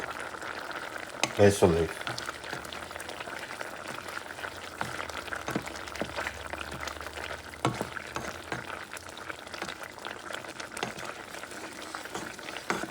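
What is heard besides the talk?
venison meatballs in homemade wine sauce cooking in pan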